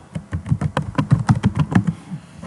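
Rapid keystrokes on a computer keyboard, a close, crisp run of uneven clicks and taps lasting about two seconds before trailing off into quiet.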